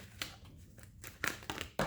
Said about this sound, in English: watch these shuffles. I'm shuffling very thoroughly.